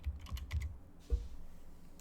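Keys on a computer keyboard are typed in a short burst of quick, soft clicks, followed by a single keystroke after a brief pause, close and quiet with no talk.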